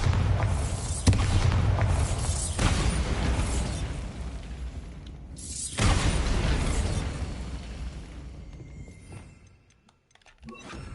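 Blasting spell explosions from the Hogwarts Legacy video game: several loud, broad booming bursts with rumbling mechanical debris, a big blast near the start and another midway, fading toward the end.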